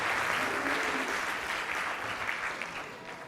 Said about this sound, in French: je pense qu'on peut l'applaudir beaucoup